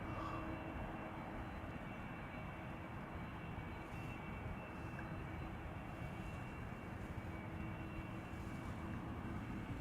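A year-old A320neo-family jet airliner outbound to Edinburgh at Schiphol Airport produces a steady, distant, broadband engine roar that holds evenly throughout without talk.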